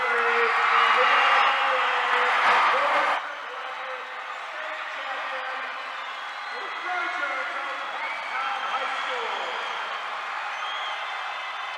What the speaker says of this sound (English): And you hear the round of applause as the Trojans introduced first time as the champions